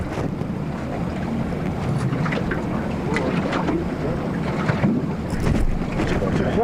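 Steady low drone of a boat motor during a walrus hunt in icy Chukotka waters, continuous and fairly loud, mixed with wind buffeting the microphone and splashing water.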